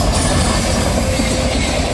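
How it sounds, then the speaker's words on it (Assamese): A train passes at a rail crossing on a road trip around Guwahati, a steady, loud, broadband rumble with rolling rail noise filling the whole stretch without a break. "পোন্ধৰ মিনিটমান ৱেইট কৰাৰ পিছত এখন ট্ৰেইন গ'ল"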